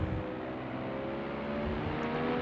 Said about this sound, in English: our safety car comes out onto the track. It makes a lot of noise, actually.